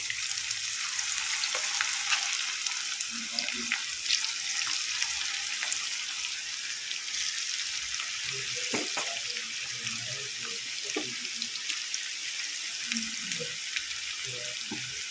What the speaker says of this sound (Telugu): ఇవి డీప్ ఫ్రై చేసుకోవాలి.